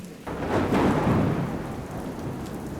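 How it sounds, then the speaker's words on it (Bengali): A deep, loud thunder roll swells after a sudden onset and fades slowly, with steady rain hissing underneath throughout. "কানে তাক লাগানো মেঘের গর্জন"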